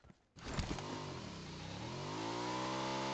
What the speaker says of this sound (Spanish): Aquí está la moto